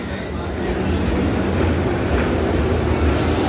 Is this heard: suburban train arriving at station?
yes